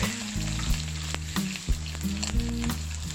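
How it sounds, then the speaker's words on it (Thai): Blanched shrimp and garlic stir-fried in a hot pan give a steady, close sizzle and crackle, broken by a few louder scraping stirs, with no voices. "แล้วก็ทำการผัด กุ้งกับกระเทียมนะครับ ให้เข้ากัน"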